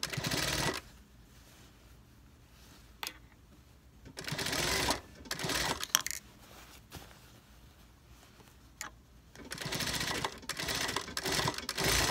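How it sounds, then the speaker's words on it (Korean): A sewing machine stitches a school uniform jacket sleeve in several bursts of rapid, close mechanical whirring, separated by quiet pauses with occasional clicks. "그럼 여기서부터 이렇게 박아봅니다."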